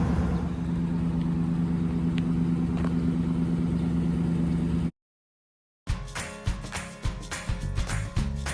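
A truck loaded with kids driving toward Kings Canyon near Sequoia National Park gives a steady low engine rumble and road noise, then cuts to silence before a burst of clattering, rhythmic knocks.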